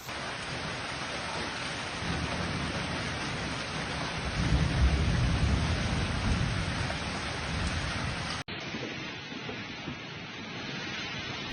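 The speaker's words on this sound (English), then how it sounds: "This is a big storm." Heavy rain pours steadily during a severe storm, with deep rumbles of thunder building in the middle before the downpour continues more quietly after a sudden cut.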